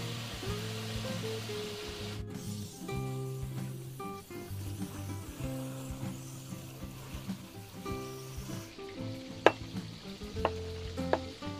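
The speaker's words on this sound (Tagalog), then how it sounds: "Habang piniprito po natin yung ating tilapia" Tilapia sizzles steadily in hot cooking oil in a pan, a constant close crackle with occasional sharper pops toward the end, no voices.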